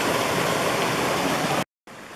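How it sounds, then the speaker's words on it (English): A creek near the abandoned village of Cold Springs rushes in a steady, loud broadband wash of flowing water, cutting out abruptly near the end before resuming briefly. "let's get across this creek here"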